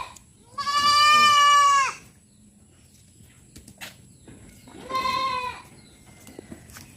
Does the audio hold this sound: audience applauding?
no